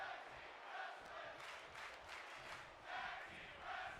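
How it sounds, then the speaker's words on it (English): A wrestling arena crowd during a tag team match keeps up a steady, rhythmic chant, loud and continuous throughout, with a few swells in volume and no clear talk above it. "As the crowd chants for tag team wrestling."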